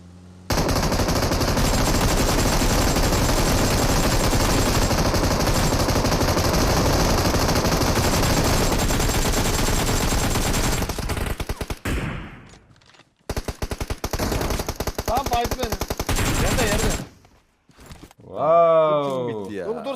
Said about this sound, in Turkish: Biri bir yerden sıktı ama nereden sıktı görmedim.